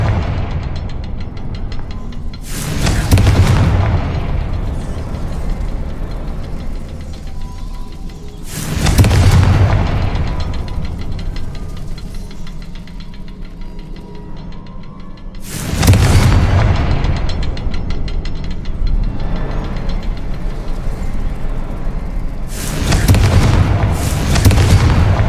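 Fire spell blasts in the video game Hogwarts Legacy: four loud, booming bursts spaced several seconds apart, each a sharp broadband crack with a lingering rumble, over a steady game ambience.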